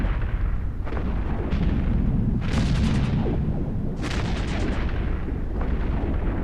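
Ship weapons in the EVE Echoes space game fire repeated heavy artillery-like bursts and booms, with sharp volleys near 2.5 and 4 seconds over a constant loud rumbling background.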